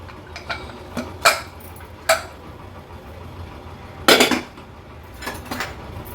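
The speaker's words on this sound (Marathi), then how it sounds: "आता कुकर उघडून बघूया." Metal clanks and clicks from a pressure cooker lid and pot ring out in separate bursts as it is opened, with a cluster of rattling knocks in the middle, against a quiet background.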